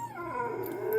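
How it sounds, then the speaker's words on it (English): A deaf pet dog howls indoors late at night, one wavering, falling-then-steady howl rising slightly in strength, close by with no talk over it. "I apologize for my dog in the background."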